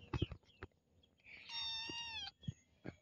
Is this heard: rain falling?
no